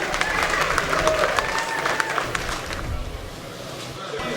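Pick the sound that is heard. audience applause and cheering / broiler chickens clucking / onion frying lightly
audience applause and cheering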